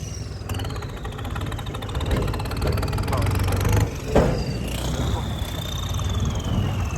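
A tractor engine revs while a trolley is being turned, its rising whine and steady low rumble running close and loud for the whole stretch, with voices partly under it.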